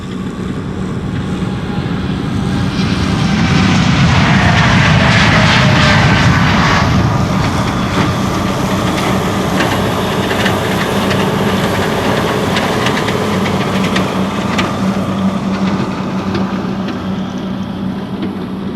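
A United Airlines Boeing 787-8 Dreamliner jet at Schiphol Airport roars past, swelling to a loud, close peak and then trailing off in a long steady engine whine with wind buffeting the microphone.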